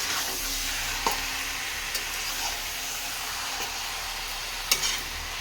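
Chicken stirred and fried for kosha in a pan, a steady soft sizzle broken by a few sharp knocks of a spatula against the pan, close up with no voices.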